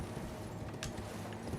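A horse gallops in the video game Elden Ring, steady hoofbeats pounding over dense game noise with a thump of a jump in the middle.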